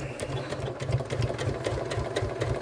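A sewing machine with a walking foot stitches through a bulky fabric bag, a quick, even mechanical chatter running steadily and close by, with no voices.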